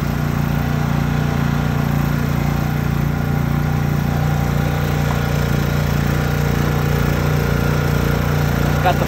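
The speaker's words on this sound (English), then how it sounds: "Got the flex power generator." An RVMP Flex Power 4000i generator runs at max load in Death Valley heat, a steady close engine drone with constant hum, unbroken for the whole stretch and with no voices over it.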